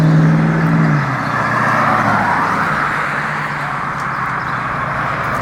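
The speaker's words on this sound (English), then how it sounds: "I'm glad I didn't have to cover my ears on that truck" A truck drives past nearby, a loud low rumble at the start that fades into a broad, steady roar of passing traffic, with no talking.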